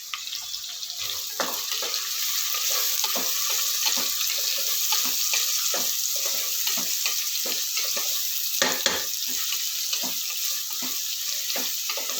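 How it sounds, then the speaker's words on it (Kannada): Chopped onion with green chillies sizzling in a hot pan for a tomato bath dish, a steady frying hiss broken by frequent clicks and scrapes of stirring, close and continuous with no talk. "ಈರುಳ್ಳಿ ಹಾಕ್ತಾ ಇದ್ದೀನಿ"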